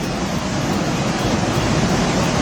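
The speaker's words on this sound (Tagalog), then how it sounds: "daw sapa na ang kalsada ug kusog ang banda sa tubig baha" Strong floodwater rushes down a road in Maasim, Sarangani Province, a steady, dense roar of churning water that fills the whole clip close to the microphone, with no voices over it.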